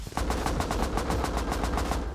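Rapid automatic gunfire in the survival game Rust during a late-night raid defence: a steady, loud string of sharp shots, roughly seven per second, firing without pause for about two seconds.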